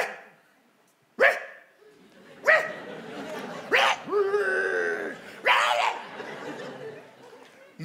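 A dog in a comedy skit gives a handful of sharp barks and yelps, spaced a second or so apart, with whining, drawn-out cries between them, close and fairly loud.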